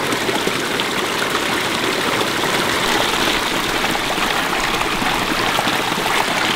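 A natural mountain stream runs close by in a steady, loud rush of water, churning continuously without pause and with no voices over it.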